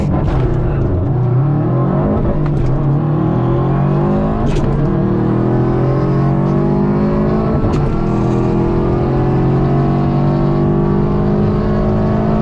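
Flex fuel Subaru WRX STI racing a K-Series hatchback on a drag strip at Sacramento Speedway, engines roaring loud and steady with rising and falling revs and brief sharp bursts throughout.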